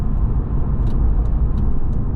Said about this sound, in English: Now, the car is driving lovely so far.